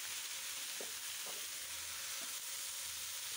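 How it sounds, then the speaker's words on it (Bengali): Malabar spinach with prawns frying in hot oil in a pan, a steady broadband sizzle throughout with a few faint stirring clinks, no talking. "পুঁই শাকটা তেলে দিয়ে দিলাম, বাগার দিয়ে দিলাম"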